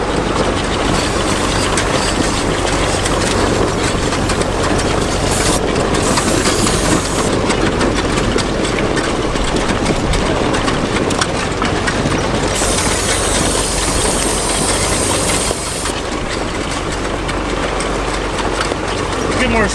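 A 1929 Dodge engine runs loud and rough as it accelerates in first gear, a dense, continuous mechanical roar with rattling, close to the microphone, while people talk over it.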